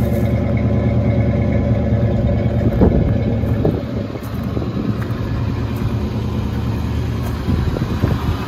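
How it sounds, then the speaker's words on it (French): A 1966 Ford Mustang convertible engine idles steadily and close by, a continuous low rumble with a few faint clicks and knocks over it. "La voiture fait un très joli bruit."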